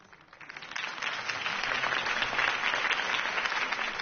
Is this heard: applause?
yes